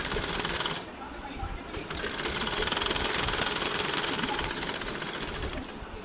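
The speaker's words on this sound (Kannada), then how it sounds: "ಅದ್ರ ಮೇಲೆ ನಾನು ಸ್ಟಿಚ್ ಹಾಕ್ಕೊಳ್ತಾ ಇದ್ದೀನಿ" A sewing machine runs in steady bursts while stitching over crossed tucks on a cross belt, a fast, even mechanical whirr that pauses briefly before starting again, close and continuous.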